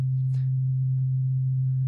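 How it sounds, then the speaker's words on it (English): A single-frequency sine wave tone, played as a musical note in a sound-visualization lesson, holds as a steady, pure, low hum at constant loudness for two seconds, with only faint background noise and no talking. "which is a sine wave"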